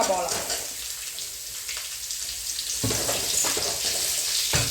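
Sliced onion frying in a pan after green chillies, with salt added, for a simple breakfast dish: a steady, fairly loud oil sizzle with a few stirring scrapes and knocks near the end, and a voice faintly present.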